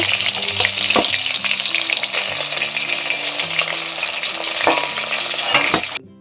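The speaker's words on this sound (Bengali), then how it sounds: "মাছগুলো আমি উল্টে দেবো একটু ভাজা হয়ে গেছে লাল লাল করে ভেজে নেবো" Oil sizzles and crackles loudly and continuously as rohu fish pieces fry in a pan, with a few clinks of a utensil, then cuts off abruptly.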